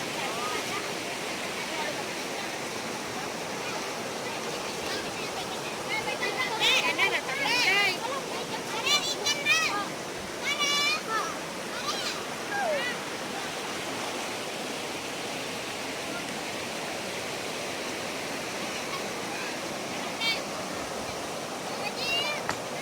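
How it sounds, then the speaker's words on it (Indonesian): The Krueng Baru river in Aceh rushes steadily, a broad continuous wash of flowing water close by, with people talking over it for stretches. "Inilah Sungai Krung Baru."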